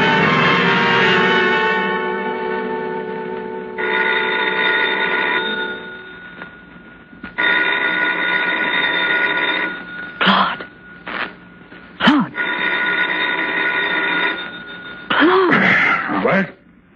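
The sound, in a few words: telephone ringing in radio drama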